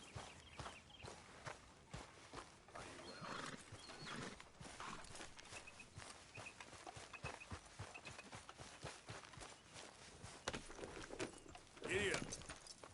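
A horse in Red Dead Redemption 2 trots along with steady, soft clip-clopping hooves on a dirt path, quiet and continuous, with a brief neigh-like cry near the end.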